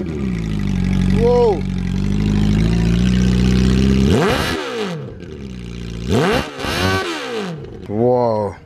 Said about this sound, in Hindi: It's a CB400 Super 4, made in Japan.